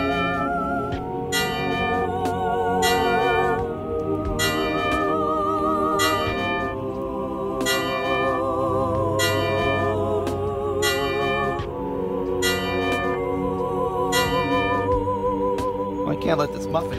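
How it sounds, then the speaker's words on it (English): A bell rings in a slow, evenly spaced series of clear, resonant strikes for a candlelight vigil, each tone ringing on over a steady low background hum. "10 bell salute."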